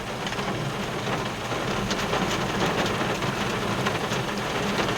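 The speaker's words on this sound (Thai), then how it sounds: "ฝนถล่มอีกแล้วครับ" Heavy rain pours down continuously on a construction site in a dense, steady hiss, drumming loudly on a close surface, with a low rumble beneath.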